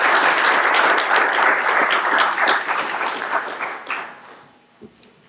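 Symposium audience applauding to welcome a speaker: dense, steady clapping from a full room that holds strongly for about four seconds, then thins out to a few last scattered claps.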